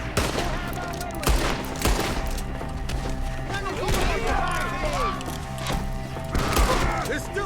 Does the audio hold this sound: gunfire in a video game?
yes